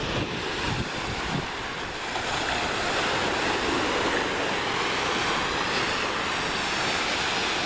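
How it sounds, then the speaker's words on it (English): Restless Pacific surf breaks along the shore at Pebble Beach golf course, a loud, continuous wash of waves mixed with gusting wind buffeting the microphone, no voices. "Down here, the restless ocean."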